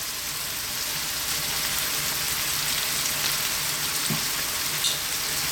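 Chopped garlic, chili flakes and thyme sizzle steadily in a hot pan, a dense continuous frying hiss with a soft clink or stir near the end, no voices.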